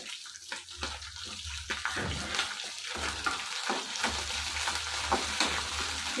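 Green chilies frying in hot oil for radish chutney, a steady close sizzle with stirring scrapes and a low hum running underneath throughout, no voices.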